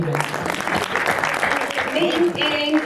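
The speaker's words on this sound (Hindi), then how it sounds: "तालियां बजा दीजिए एक बार" Audience clapping at a Hindi poetry recital (kavi sammelan) in Ghaziabad, a short burst of applause mixed with voices and murmur from the crowd, fairly loud and steady throughout.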